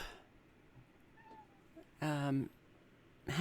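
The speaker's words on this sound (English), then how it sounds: "my cat is very upset that I'm not letting him out in the dark here" A cat lets out a loud, drawn-out meow close by, followed by the start of another, against a quiet room.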